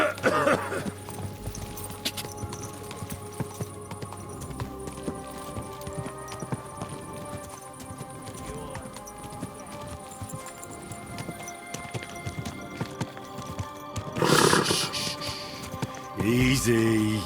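Horse hooves clip-clopping at a steady gait in the medieval video game Kingdom Come: Deliverance 2, soft and continuous under ambient game sound, with louder bursts near the end and a rider calming the horse.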